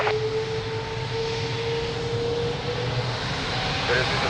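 A steady jet aircraft engine roar with a faint whine at Lisbon Airport, constant and moderately distant, while radio talk plays over it.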